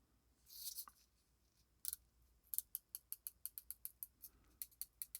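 Oris Aquis Date Calibre 400 dive watch bezel being rotated, a quick run of crisp, evenly spaced ratcheting clicks, close and faint, after a few scattered handling sounds.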